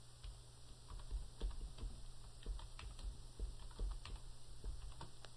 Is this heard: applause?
no